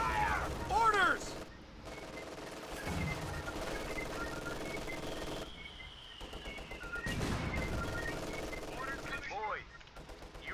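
Bursts of machine-gun and rifle fire crackle through a Company of Heroes 2 multiplayer battle, fairly quiet and a little distant, with brief in-game voice callouts between the volleys.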